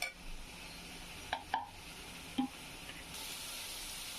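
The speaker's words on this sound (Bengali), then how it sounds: "আমি একটু মশলাটা ভালোভাবে কষিয়ে নিই" Spice paste of ground spices frying in a pan, a steady soft sizzle punctuated by a few clinks of a spoon scraping and stirring against the metal, no talking.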